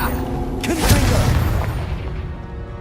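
A Confringo blasting spell goes off in Hogwarts Legacy, a loud close boom with a crackling burst that rolls out and decays into a lingering rumble, with no talk over it.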